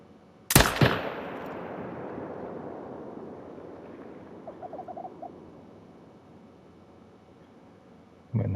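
A single hunting rifle shot cracks loudly in The Hunter: Call of the Wild, its boom rolling away in a long fading echo over quiet outdoor ambience.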